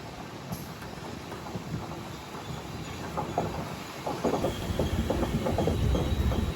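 A train rolls through a railway station in Tamil Nadu without stopping, its wheels clattering steadily and growing louder in the second half, heard up close with no talk.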